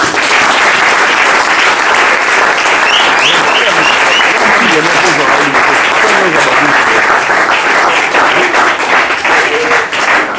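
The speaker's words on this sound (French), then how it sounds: "Est-ce qu'on peut acclamer pour le Seigneur?" Church congregation breaking into loud, sustained applause and cheering for the Lord during a French-language sermon, dense clapping filling the whole stretch with crowd voices mixed in.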